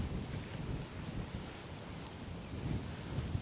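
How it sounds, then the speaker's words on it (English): Strong wind blows upstream over a river from a small fishing boat, buffeting the microphone in a steady rushing roar with faint lapping water underneath and no talking. "because the wind's so strong blowing upstream"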